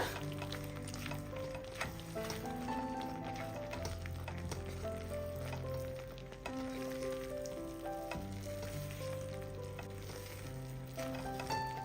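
Ground mustard, coriander and fenugreek spices sizzling in a hot pan as they are stirred in, a crackling fry with scraping strokes, heard close under melodic music playing throughout.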